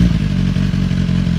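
A BMW 999cc four-stroke liquid-cooled motorcycle fitted with an aftermarket full titanium Akrapovic exhaust idles loud and close, with a deep, lumpy, pulsing burble.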